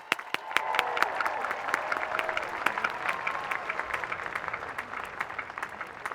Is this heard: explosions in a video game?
no